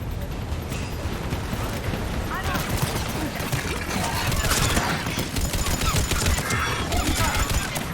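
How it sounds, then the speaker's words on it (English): A Mass Effect 3 firefight is a dense wash of continuous gunfire and crackling weapon bursts under urgent voices, busy and loud throughout. "Commander, I've got enemy contact. Under fire."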